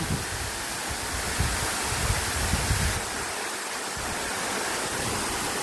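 Strong rushing water pours steadily at a bathing spot, a loud, continuous broadband roar close by that holds its force throughout, with no voices over it.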